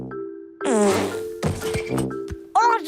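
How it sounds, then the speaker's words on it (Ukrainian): A cartoon fart plays as a loud, wobbling, bubbly blast with pitch glides, followed by shorter sputters and a final squeaky burst, all close and over a steady tone in a children's animated show. "ти пукнула як дитина"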